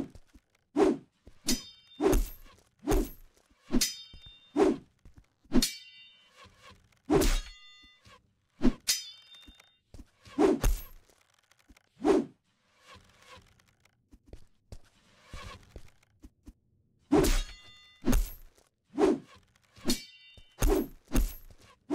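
Melee attack hits land in The Witch's Redemption, a PC game: about twenty sharp, punchy thwacks fall in quick bursts of combos, each one loud and close, with brief gaps between flurries and no talk.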